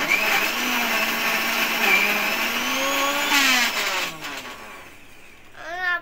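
A kitchen mixer grinder grinding sugar runs loudly up close with a high whirring motor whine that rises and shifts pitch, then slows and winds down near the end.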